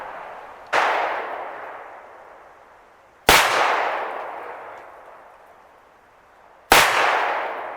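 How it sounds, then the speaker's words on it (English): Three sharp gunshots from outdoor target shooting, each a loud, close crack followed by a long rolling echo that fades over a couple of seconds, spaced a few seconds apart with no talking. "we had a good time shooting"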